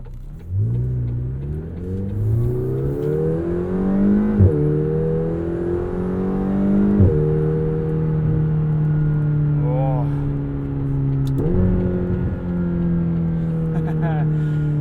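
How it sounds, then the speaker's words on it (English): A 2021 McLaren GT engine in track mode revs hard and loud, pitch climbing through gears with sharp shifts and pops, while someone talks over it. "start off in track mode today, because that's where this McLaren sounds the best"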